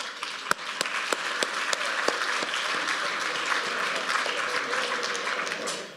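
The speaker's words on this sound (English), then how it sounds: "How about a round of applause for little Rhodey?" An interfaith climate change conference audience in Rhode Island gives a round of applause, a continuous crowd clapping of moderate loudness with a few sharper individual claps standing out.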